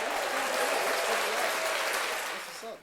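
Audience applause on a talk show, a thick, sustained wash of clapping that holds steady and then fades out near the end, with a voice briefly audible.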